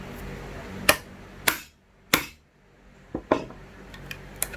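Sharp wooden knocks of a chisel chopping out a bridle joint, about six crisp taps in an uneven rhythm, close and clear with brief quiet gaps between strikes.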